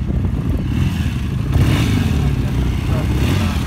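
A BSA motorcycle at an owners' club rally open day revs up and rides off, a loud steady engine roar with clattering mechanical noise against an outdoor crowd.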